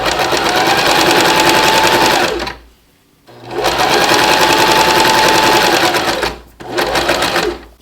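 A sewing machine stitches bias tape strips together in long continuous runs, loud and close, with the motor's rapid whirring pausing twice between seams before starting again.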